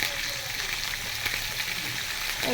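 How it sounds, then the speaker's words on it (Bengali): A rohu fish head fries in hot oil for muri ghonto with a continuous, fairly loud, close sizzle and crackle. "ভেজে নিই"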